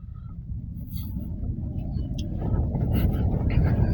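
A modified Toyota Fortuner rumbles through a deep pit about five feet below ground level, its engine and chassis making a steady low rumble that swells louder toward the end, with faint higher rattles over the top.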